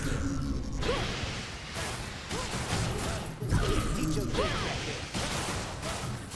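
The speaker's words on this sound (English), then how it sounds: "You get heat-seeking missiles." Heat-seeking missiles fire in Hades 2, with repeated whooshing launches and crackling, creaking mechanical bursts in quick volleys that keep a dense, loud barrage going throughout.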